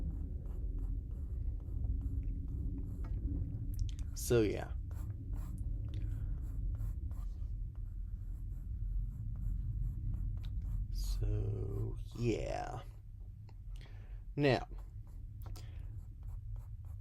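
An HB pencil sketches arms and a forearm on paper, a soft, steady scratchy scraping with a few brief louder strokes, close and quiet, while someone speaks a few words over it.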